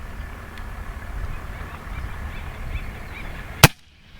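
Single sharp crack of a small bore airgun firing the last shot in the magazine at a target, one loud close report after a stretch of quiet outdoor ambience.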